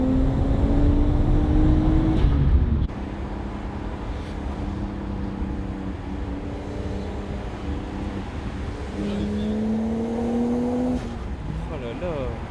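A modified Nissan Skyline R34 with a single-turbo RB25 engine pulls hard at close range, a loud rising engine note at the start and a second climb near the end, with men chatting over it.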